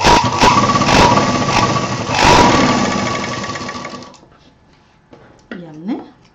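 A sewing machine joining the belt ends of a medium-size tour bag runs loud and steady for about four seconds, then winds down and stops, followed by a brief voice.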